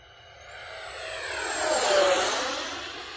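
E-Flite SU-30 RC jet with twin 70mm electric ducted fans flying past, a rising then fading whooshing whine that swells to a peak mid-pass and stays loud throughout, with no voices.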